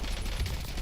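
Rapid gunfire in a video game firefight, dense and continuous bursts filling the short moment at close range.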